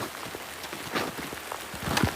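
Cold rain patters on a surface in a soft, scattered spatter of drops, faint and steady with a few sharper taps.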